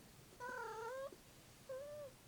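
A cat indoors gives two soft meows, the first longer and wavering, the second shorter after a pause, faint against a quiet room hum.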